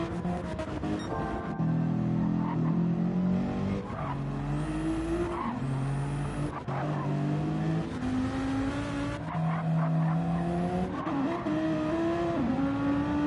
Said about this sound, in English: Got some more drivers going through that chicane as well.